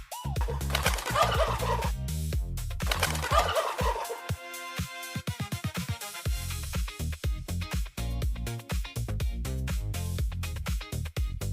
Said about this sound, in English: It's a turkey. Gobble, gobble.